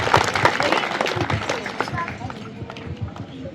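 An audience at a rural Congress party women's empowerment event in a village breaks into dense, vigorous clapping, loud and close at first, then thinning and fading over a few seconds.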